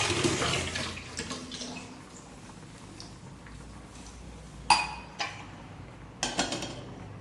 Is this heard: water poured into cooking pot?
yes